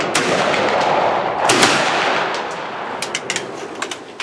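Black-powder rifle volley from Victorian rifleman reenactors at an outdoor shoot in Bowling Green, Kentucky: one loud, dense blast that rolls and echoes across the field, followed by scattered sharper cracks and pops.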